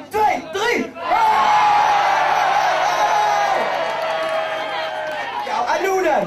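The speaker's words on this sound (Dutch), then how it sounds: "dan op 3 gewoon allemaal klappen en schreeuwen" Crowd at a youth carnival prince ball clapping and shouting on a count of three: a loud sustained wave of whoops, yells and cheers, with voices before and after.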